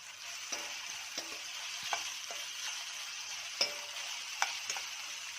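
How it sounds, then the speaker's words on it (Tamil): Salted onions sauté in a pan for Karnataka-style avalakki upma, sizzling steadily while a spoon scrapes and stirs at irregular intervals with sharp clicks, close up and without talk. "வெங்காயம் நல்லா வதங்கணும்."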